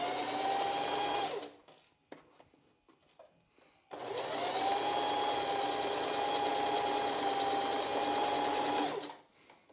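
Sewing machine running basting stitches at a 1/8 inch seam allowance along a bra back band, a steady close whir in two long runs with a quieter pause of small handling noises between them.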